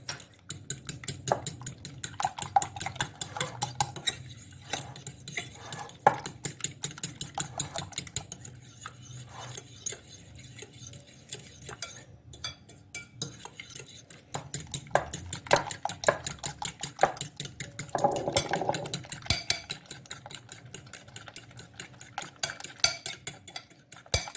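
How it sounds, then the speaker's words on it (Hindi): A spoon scrapes and clinks steadily against a bowl as omelette ingredients are stirred together with black pepper, salt and chaat masala, with a close, continuous rhythm of light metallic taps. "ये अच्छी तरह से मैंने मिक्स वेल कर दिया है"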